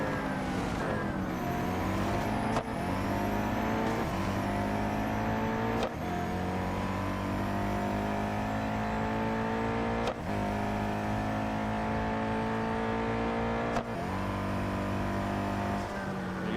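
Race cars in the Real Racing 3 mobile game roar steadily at high revs with a sustained engine whine, briefly dipping at gear shifts every few seconds, loud and continuous without talk.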